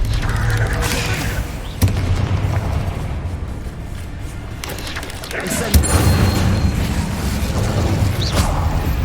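Incendio fire spell cast in the video game Hogwarts Legacy: a whooshing, crackling burst of flame with booming impacts, swelling twice over a dense roaring game soundscape while a voice speaks.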